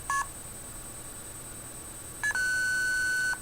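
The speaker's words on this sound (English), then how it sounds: "that last beep that played when I pressed it to store it" Two short electronic beeps from a phone's memory button as a number is stored, a quick tone followed about two seconds later by a longer, sustained beep, over faint background hiss.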